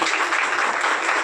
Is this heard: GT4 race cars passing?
no